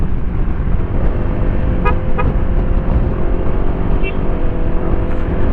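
Two short toots of a Honda PCX160 motorcycle horn around the middle, with a fainter beep later, over steady engine and road noise on a mountain road in Infanta, Quezon.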